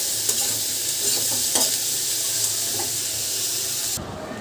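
Chilli, onion and garlic frying and being stirred in a pan for a loitta fish curry, a steady close sizzle with scraping stir strokes, ending in a sharp cut.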